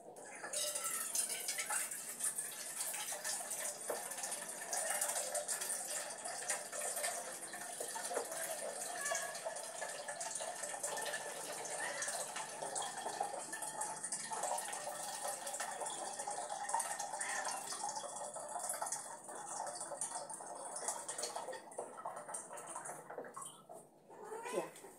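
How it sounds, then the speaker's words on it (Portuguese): Tap water running steadily from a faucet to fill a pot for a homemade fabric softener, a continuous close splashing rush that holds for a long stretch and tapers off near the end. "Vou pegar a água da torneira mesmo."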